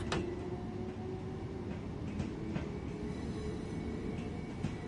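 A Class 455 electric train running in Train Sim World 2, with a quiet, steady low rumble, a faint hum and sparse clicks and knocks from the wheels on the track.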